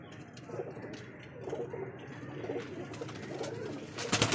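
Aliwala breeder pigeons coo in a setup of mixed males and females, soft repeated cooing phrases close by under low background noise, with a brief clatter at the end.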